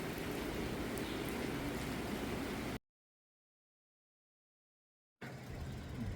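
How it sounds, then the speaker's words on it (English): Light rain falls as a steady, even hiss of fine patter, with no distinct drops or voices. It breaks off into a few seconds of dead silence, then resumes. "It may not be raining hard, but I don't like getting wet."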